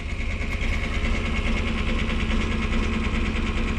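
Bush Hog B1550 mower running steadily, a loud continuous engine drone with a rapid rhythmic throb and no pauses, close by.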